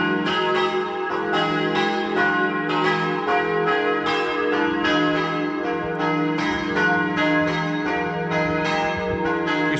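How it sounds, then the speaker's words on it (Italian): Church bells of the church in Torlano, Friuli, Italy, peal steadily with repeated overlapping strikes, loud and resonant, ringing on without any voices. "il suono melodioso delle campane che ci invitano alla preghiera"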